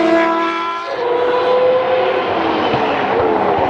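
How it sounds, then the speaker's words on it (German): A historic Benetton Formula One car driving past at the Hockenheimring historic racing event, a loud high-revving engine scream that drops in pitch as it passes close by, with no talk. "Das dürfte der Alesi Benetton sein"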